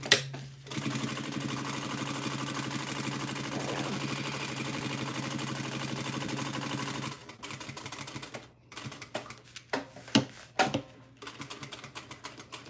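A sewing machine stitching through a tote bag in one long steady whirring run, then stopping and restarting in short bursts with a few clicks, close up.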